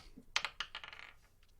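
Dice rolling on a table during a tabletop game session: a quick run of hard clicking rattles and bounces that thins out and settles, quiet and close, with no talking.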